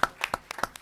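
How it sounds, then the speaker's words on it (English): A few scattered, quiet hand claps at a city council meeting, about six separate claps in under a second, with no one speaking. "Let's give them a round of applause"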